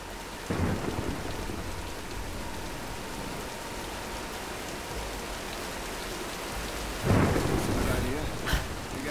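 A thunderstorm with heavy rain in the Tomb Raider (2013) video game: steady hissing rainfall runs throughout, with two loud thunder cracks and rumbles near the start and near the end. There is no talk.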